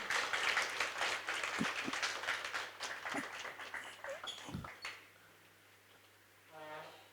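An audience at a book launch for the novel Dard Bhari Muskaan breaks into a dense burst of clapping that fades after about five seconds. A few voices sound through the applause, then a short musical tone follows.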